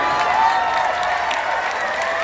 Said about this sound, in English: I see you up there clapping on the balcony